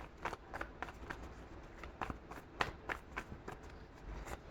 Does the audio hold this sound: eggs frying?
no